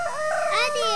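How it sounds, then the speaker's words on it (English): A rooster crows close and loud in one drawn-out cock-a-doodle-doo, its bright harmonic call rising and holding for the full second with no other sound. "Roosters say cock-a-doodle-doo"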